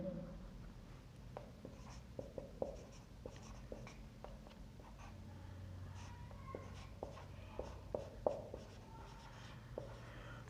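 Pen on paper jots down physics numerical data, with continuous scratchy strokes and small taps running steadily and close, faint room hum underneath, no talking.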